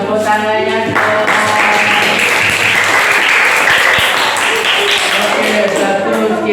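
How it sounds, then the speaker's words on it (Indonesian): Loud, dense applause from a classroom audience fills the whole stretch, steady and continuous, with some voices mixed into the clapping. "Tepuk tangannya dong."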